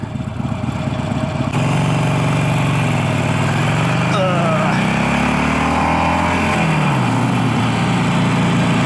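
A motorcycle engine revs up close and loud while riding, with the clutch slipping. Its pitch climbs and dips over a steady rumble, with wind noise.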